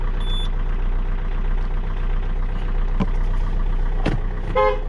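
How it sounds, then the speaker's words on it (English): A Peugeot 407 horn sounds just after the steering wheel has been replaced, a few short toots over a steady engine hum, the last one a quick bright burst near the end. "And the beep signal works fine as well."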